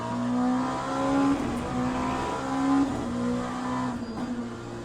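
Hypercar in the racing game Le Mans Ultimate, heading through the Ascari chicane: a high engine note rising and falling through upshifts and downshifts, with brief tire squeal, heard alone without talk.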